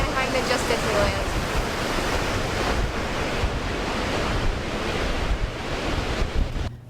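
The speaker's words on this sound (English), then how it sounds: "I wouldn't stand a chance against those waves" Ocean surf breaking continuously along the shore at Anaheim, a steady loud wash of waves with wind buffeting the microphone throughout, no voices.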